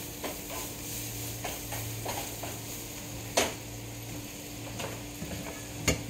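Smash burgers and onions sizzle on a hot griddle with a constant low crackle, punctuated by a couple of sharp spatula clicks.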